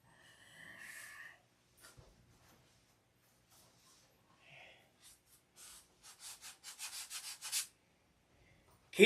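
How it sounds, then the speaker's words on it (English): Hand sanding wood filler: short, raspy strokes of sandpaper, first scattered then a quick rhythmic series of brisk rubs, close and fairly quiet. "Keep sanding."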